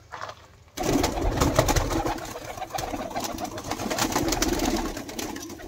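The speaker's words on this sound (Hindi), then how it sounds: "ये देखिए दोस्तों, कबूतर के बच्चे मैं यहाँ पे आपको दिखा रहा हूँ।" Pigeon chicks about fifteen days old make soft, continuous cooing and chirping at close range, loud and steady after a brief quiet start, with no talking.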